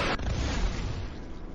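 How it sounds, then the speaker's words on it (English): Explosions in the sci-fi video game Space Grunts, a sharp blast at the start followed by a rumbling, decaying boom with low crackling debris, loud and close. "A lot of explosions."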